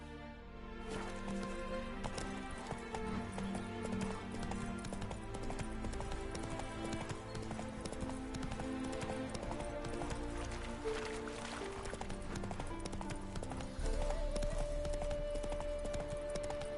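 Horse hooves clip-clop at a running pace in The Witcher 3 video game, steady throughout under a full music and ambience mix, with a brief whinny.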